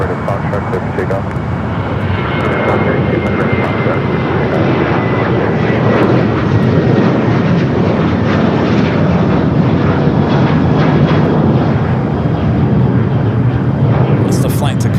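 A United Boeing 737-800 jet rolls for takeoff on runway 25 right at Los Angeles airport, a loud, steady broadband engine roar that holds throughout, with voices talking over it.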